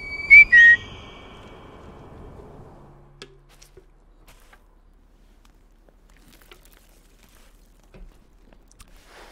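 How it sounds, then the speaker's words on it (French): Two short, bright whistle blasts ring out at the start of a Sekiro game scene, followed by near silence with a few faint clicks. "Bah oui, on va siffler."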